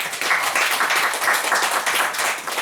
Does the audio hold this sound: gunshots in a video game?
no